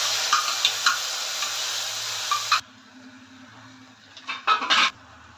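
Tomato puree poured into a hot, sizzling pan for Patiala chicken: a loud, dense sizzle that suddenly drops away, then quieter stirring with a few bursts of spoon scraping against the pan.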